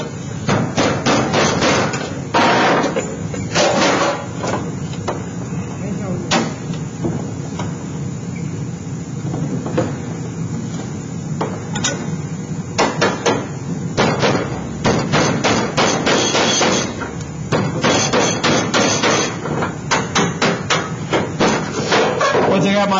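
Rapid, loud metallic hammer blows ring out in irregular bursts, closing a Pittsburgh seam on a sheet metal reducing duct, continuing steadily throughout at close range.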